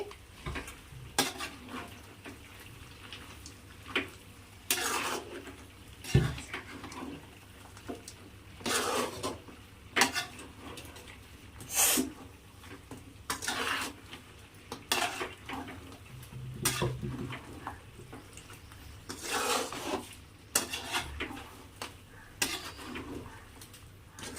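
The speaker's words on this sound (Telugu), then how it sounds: "ఇప్పుడైతే దీన్ని తిప్పుకుంటున్నాను. ఎటువంటి మసాలాలు లేకుండా న్యాచురల్గా అయితే చేస్తున్నామండి చికెన్ ఫ్రై." Chicken frying in a pan without spices, being turned with a utensil; soft steady sizzling runs beneath repeated scraping and clinking strokes against the pan, spaced irregularly throughout.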